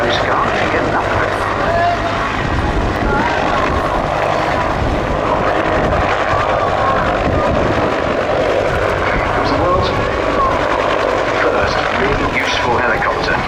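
A steady, loud rotor-and-engine drone of a Sikorsky S-55 helicopter flying overhead at the 2017 Cosford Air Show, continuous throughout with no pauses.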